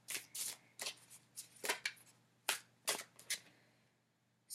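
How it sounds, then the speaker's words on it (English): Tarot cards being shuffled and drawn, a run of crisp riffling and flicking bursts in quick uneven succession, close and fairly quiet, with no talking. "let's pick some tarot cards"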